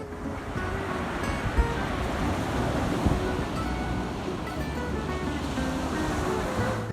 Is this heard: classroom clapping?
no